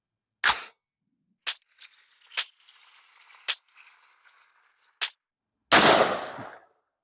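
Rifle shots from a PSA Classic AR-15 upper fired at paper targets 25 yards away: six sharp, loud cracks spaced about a second apart, with a faint ringing tail between them and a longer, heavier blast at the end.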